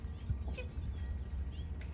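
A small bird calls loudly outdoors on a nice day, a few sharp high chirps standing out over a steady low rumble of background noise.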